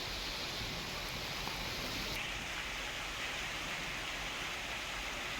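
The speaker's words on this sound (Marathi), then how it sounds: "कात्रज परिसरात हलक्या पावसाने हजेरी लावली आहे" Steady, even hiss of light rain falling in Katraj, Pune, continuous and fairly soft with no voices.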